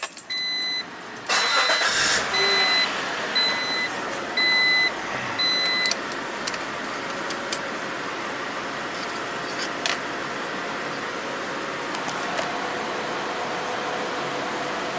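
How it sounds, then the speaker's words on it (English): A 1995 Acura Legend V6 idling with its A/C compressor engaged through a bypass, a steady engine hum following a few short electronic beeps and a clunk near the start. "we still have our bypass connected, so the compressor should kick right on"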